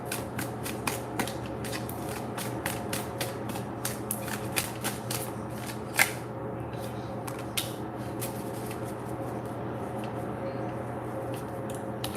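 Playing cards are pulled and flicked one after another in a tarot-style reading, a string of crisp snapping flicks at an irregular pace, close by and fairly quiet, over a low steady hum.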